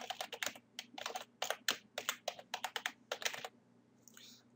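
Fast, uneven clicking of keys on a computer keyboard, close and clear over a faint steady hum, with the typing stopping shortly before the end.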